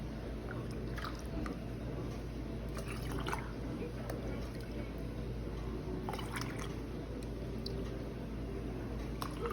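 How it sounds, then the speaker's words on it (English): Warm water pours into a canning jar of dry beans, a steady close trickle and drip with small splashy bursts, while a person talks throughout. "I have my warm water here, so I'm gonna go ahead and start filling up this jar"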